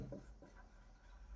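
Marker or chalk scratches across a classroom board in short, faint strokes, close and quiet, with no talking.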